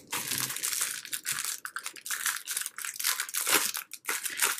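Crisp crinkling and tearing of paper packaging, close and continuous with brief pauses, no talking.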